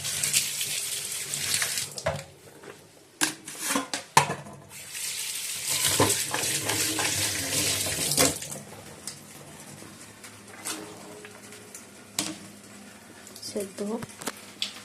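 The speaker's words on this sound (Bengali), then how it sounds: "ধুয়ে দিচ্ছি।" Kitchen tap water runs over vegetables as they are washed, splashing in uneven bursts that start and stop, with handling noises between them and a voice now and then.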